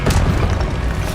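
A Levioso spell cast in the video game Hogwarts Legacy gives a short, loud, booming burst with a low rumble and an airy swish that fills about a second.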